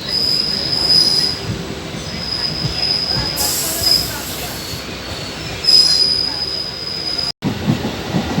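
A passenger train runs on its rails, a loud continuous rumble with persistent high-pitched wheel squeal and some rhythmic clatter, heard from inside the carriage.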